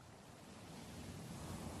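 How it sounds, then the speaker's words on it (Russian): Steady sea surf washing in with a low wind rumble, continuous and fairly distant, with no voices. "Впереди море."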